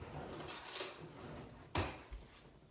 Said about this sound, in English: So I'm just going to give that a little stir.